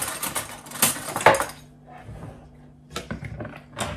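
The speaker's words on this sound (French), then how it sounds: "on va prendre une cuillère pour mélanger tout ça." A metal spoon stirs baker's yeast into lukewarm water in a bowl for baguette dough, giving scattered clinks and scrapes in two short busy bursts separated by a quiet stretch.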